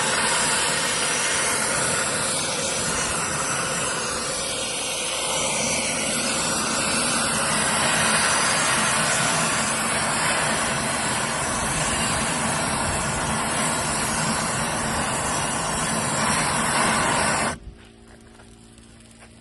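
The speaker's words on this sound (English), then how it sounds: "you got an air compressor, you can stoke the fire" An air compressor blows a loud, steady rushing stream of air into a smoker firebox to stoke the fire for smoking ham, holding close and constant before cutting off near the end.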